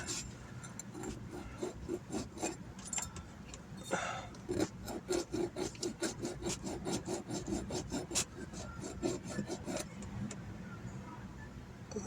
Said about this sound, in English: I better give it some sanding